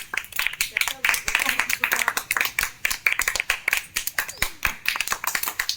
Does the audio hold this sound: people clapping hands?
yes